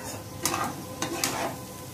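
Grated ginger and finely chopped tomatoes fry quietly in a pan for chhole, giving a soft continuous sizzle. A few brief scraping stirs sound through it.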